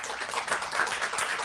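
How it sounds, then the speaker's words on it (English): Applause from an audience of panelists and guests at a press briefing on an interim election observation report: a steady, soft patter of many hands clapping throughout, fairly quiet and distant, with no voices. "huge round of applause for them"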